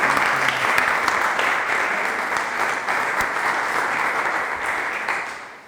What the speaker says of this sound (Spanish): Le damos un fuerte aplauso a nuestra Margarita